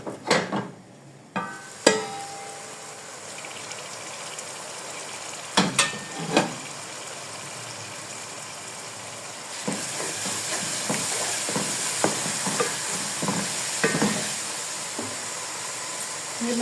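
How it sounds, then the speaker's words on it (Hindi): Spice masala with tomato puree frying in a pot for beef nehari, a steady close sizzle with scattered stirring clicks and scrapes, growing louder and fuller in the second half, with no talking. "ये मसाला अच्छे से भून लेंगे।"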